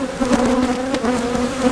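Agitated honey bees buzz loudly and continuously around hive frames, a dense steady drone with individual bees flicking close past.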